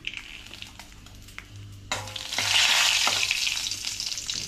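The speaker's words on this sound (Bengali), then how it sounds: "এই তেলেতেই এবার আমি ফোড়ন দেব। আগে আমি দুটো তেজপাতা দিয়ে দিলাম।" Two bay leaves drop into hot oil as tempering for palak paneer, and a loud, steady crackling sizzle bursts up and holds after a quieter opening of faint pan noises, close by and with no talk.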